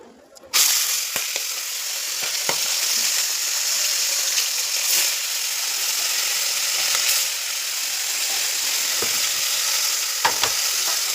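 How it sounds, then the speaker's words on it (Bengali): Pieces of large freshwater prawn frying in a pan, a steady loud sizzle and hiss that starts abruptly and continues, with occasional clicks and stirring knocks and no talk. "তো এখানে মাছটা ভাজা হচ্ছে।"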